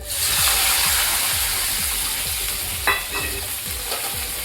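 Roasted semolina sheera with cardamom and milk is stirred in a pan: a steady run of rhythmic scraping strokes over a continuous close sizzle, with no talking.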